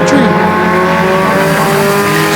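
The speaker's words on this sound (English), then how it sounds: "He's trying to make that car stick to the bottom, and Eric Stewart in the 82 holding on" Pure stock race cars roar around the oval at Flamboro Speedway, loud sustained engine drone with steady harmonic tones and a brief tire squeal, under commentary.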